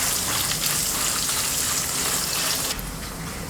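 Coconut pieces for a Kerala-style beef fry being stirred in a pan over medium flame, giving a steady, loud broadband hiss of frying that runs throughout and softens slightly near the end, with no voices.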